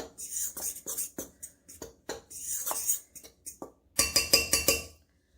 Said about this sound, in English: and then the nutmeg, and I will mix this in. Let's mix it in nicely.